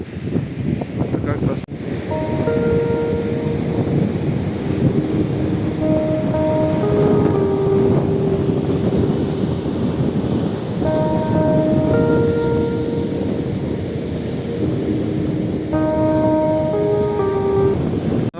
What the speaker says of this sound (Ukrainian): Прийшли на саме море, дивіться, який великий пляж.